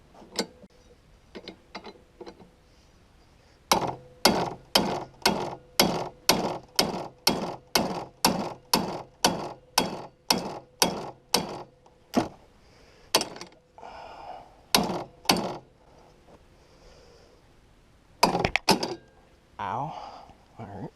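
A ratchet wrench loosens a bolt on a rotting 1970s Yamaha snowmobile, clicking in a long rapid run of sharp, evenly spaced ticks with a few scattered clicks before and after, close up.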